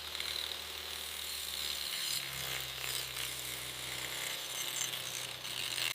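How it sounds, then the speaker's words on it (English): A cutting saw works through a lab-grown diamond in a gem factory, producing a steady mechanical whirring grind with faint ratcheting texture, even and continuous at moderate level. "Sawing through the hardest material."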